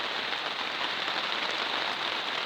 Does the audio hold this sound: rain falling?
yes